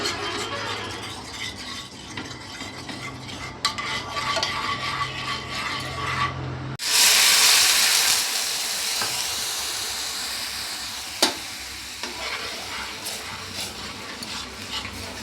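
Milk poured into hot caramel in a pan, a sudden loud hissing burst of steam and sizzle that slowly fades into a steady bubbling simmer, following earlier stirring and clatter.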